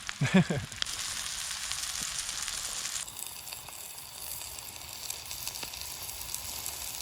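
Wild oyster mushrooms fry in butter outdoors over high heat, a steady close sizzle and crackle throughout with a brief clatter near the start, with no voices.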